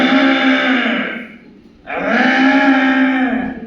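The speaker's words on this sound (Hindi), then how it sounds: "उधर से दौड़ी कजरी गाय दौड़ते वहां पे आती है और भीमा गधे के कान में बहुत जोर से रंभाने लगती है।" A cow moos loudly and close in a cartoon story, two long drawn-out bellowing calls separated by a brief dip, each steady and full.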